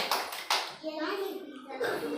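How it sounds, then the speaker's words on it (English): Young children in a kindergarten class clap their hands in a few quick bursts, close and fairly soft, mixed with a voice talking. "Clap your hands"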